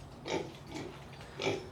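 Farm pigs grunting, three close, moderately loud grunts spaced about half a second to a second apart, with no talking.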